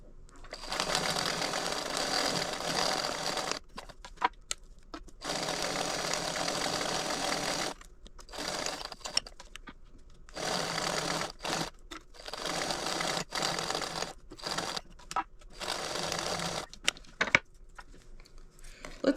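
A sewing machine stitches a large leather wallet stiffened with Peltex, running in several loud, close bursts of rapid whirring separated by short pauses.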